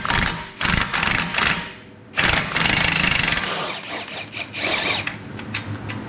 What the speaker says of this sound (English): I'm going to be cheating and using the impact.